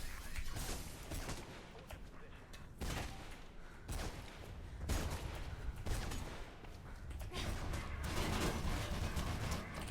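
Machine gun fire in Mirror's Edge comes as repeated bursts of dense, harsh noise, loud and continuous across the clip, with short gaps between volleys.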